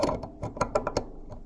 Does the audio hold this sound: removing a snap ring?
yes